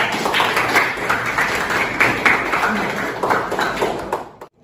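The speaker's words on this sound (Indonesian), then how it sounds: "Berikan aplaus dulu untuk Kalista dan Nata." Classroom applause for two students, Kalista and Nata: a small group claps in an uneven patter at close range for about four seconds, then stops abruptly.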